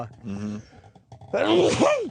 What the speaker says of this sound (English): I just had to sneeze.